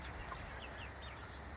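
Chickens cluck softly in a backyard coop, a few faint, scattered calls over constant low background noise, with no one talking.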